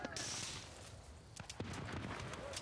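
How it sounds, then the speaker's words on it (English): Rapid bursts of gunfire crackle through a Battlefield: Bad Company multiplayer match, with sharp shots peaking around the middle and end over a constant dense battle din; no one talks. "There's some nice burst firing there by Gonzalo"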